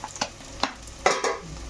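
Ginger paste being stirred into onions frying in a pan for paneer biryani: a few soft scraping stirs over a faint sizzle, close and moderately quiet.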